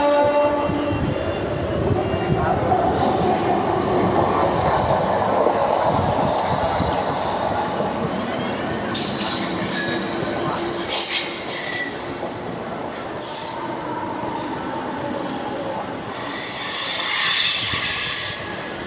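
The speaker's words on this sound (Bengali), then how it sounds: "আমাদের ট্রেন এখন দাঁড়িয়ে রয়েছে রামরাজাতলা স্টেশন ঢোকার আগে" A South Eastern Railway train near Ramrajatala station rolls with loud wheel squeal and rumbling, grinding and clattering rail noise, close and continuous throughout, with no one speaking.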